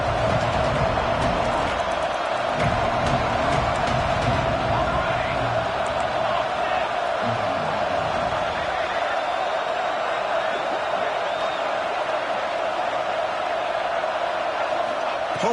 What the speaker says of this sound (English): Home crowd trying to make a difference on fourth down.